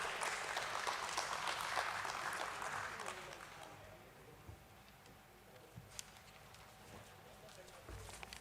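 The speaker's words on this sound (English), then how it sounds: "Let's welcome him on stage with a round of applause." Audience applause at a stock exchange listing ceremony, a dense sustained clapping that fills the hall for about four seconds, then thins out and fades beneath murmuring and low room noise.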